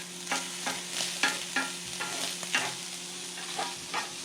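Meat frying in a pan in a home kitchen, cooked until well done and crispy, with a steady close sizzle and repeated scraping, clattering stirs at a regular pace.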